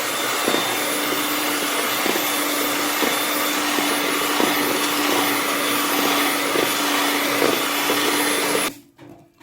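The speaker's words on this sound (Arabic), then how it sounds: "وهنضربهم ان شاء الله بالمضرب" An electric mixer beats eggs with a pinch of salt for a cake, running as a loud, steady whirring drone with a faint pulsing rhythm for nearly nine seconds before cutting off abruptly.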